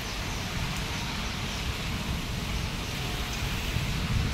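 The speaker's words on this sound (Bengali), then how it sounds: "বৃষ্টি আসতেছে আর যে বাতাসটা খুবই ভালো লাগতেছে" Steady rain falls with wind in a broad, even hiss that runs unbroken at moderate level, with no voices over it.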